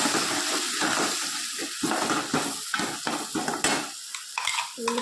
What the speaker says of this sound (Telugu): ఉల్లిపాయ జీలకర్ర పేస్ట్ ఉంది కదండి, ఆ పేస్ట్ వేసేస్తున్నాను